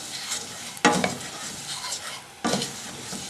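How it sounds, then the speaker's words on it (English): Brown rice toasting in a pot for a brown and wild rice pilaf, a continuous close sizzle with two distinct scraping stirs of a spoon against the pot, no voices. "I'm going to stir it up. Let this brown rice toast."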